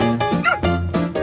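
Dog in a children's doll story giving a few short, bright yips and barks in quick bursts, loud and close, with no other sound.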